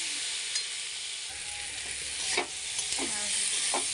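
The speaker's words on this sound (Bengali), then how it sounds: "ঝোলের জন্য একটু জল দেবো।" Pabda fish curry with salt, turmeric and sugar sizzles and fries in a pan as water goes in for the gravy, a steady hiss with a few stirring clanks and scrapes, close and loud.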